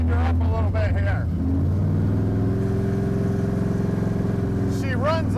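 A 1966 Chevrolet Nova Pro Street's engine revs up loud and close, climbing then settling into a rough, powerful idle before another rising rev at the end, with a voice speaking over the start.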